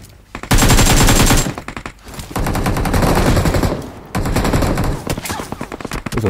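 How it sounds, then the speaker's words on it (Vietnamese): Loud, close bursts of automatic gunfire in a PUBG match, a long rapid volley at the start followed by further sustained rattling fire and shorter bursts. "Rồi ai bắn đây, đau quá"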